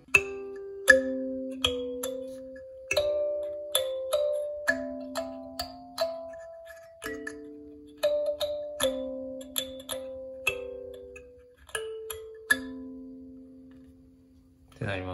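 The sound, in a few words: kalimba melody with accompaniment on the first beat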